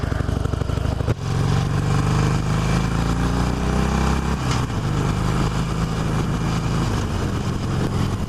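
Engine of a 2016 Harley-Davidson Roadster motorcycle on a test ride, a loud, steady rumble heard from the rider's position, with a brief dip just after the first second and a mild shift in pitch later.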